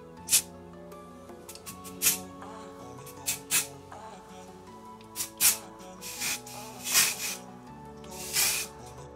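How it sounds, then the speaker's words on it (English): Short hissing spray bursts from a can of texture hair spray, some quick and some longer, repeat irregularly close by, with light handling noise between them. "I'm not really sure if I sprayed enough"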